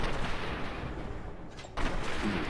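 Pipe gun fire in the video game Fallout 4, a dense, loud burst of gunshots that runs almost continuously, with a brief drop near the middle, no voices.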